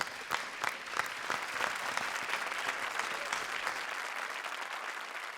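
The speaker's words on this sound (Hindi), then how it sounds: "एक बार फिर जोरदार तालियां" Studio audience applause on a Hindi comedy TV show, a quick run of clapping with sharp individual claps up front that thins and cuts off near the end, fairly quiet overall.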